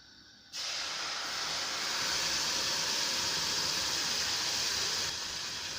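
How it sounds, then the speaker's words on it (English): Stock is poured into a hot pan for a curry sauce and bursts into a loud, steady steaming sizzle. The hiss starts suddenly and holds strong for several seconds, easing slightly toward the end. "Now that's mixed in, let's add our stock."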